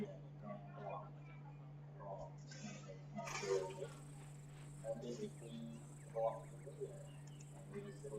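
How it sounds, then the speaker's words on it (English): Crickets chirp steadily in ArmA 3 gameplay beneath a constant low hum, with scattered faint voices talking over them. "you can hear the crickets"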